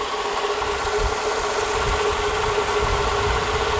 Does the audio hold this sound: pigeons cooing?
no